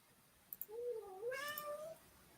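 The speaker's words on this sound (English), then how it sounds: "I heard someone's cat." A single drawn-out cat meow, rising and then falling, is clear and fairly close against a quiet room with faint background hiss and a couple of small clicks.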